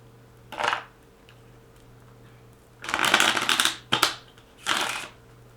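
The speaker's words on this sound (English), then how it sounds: "Do a couple of shuffles and a cut" Tarot cards being shuffled in several short riffling bursts, close up, with brief pauses between them and no talking.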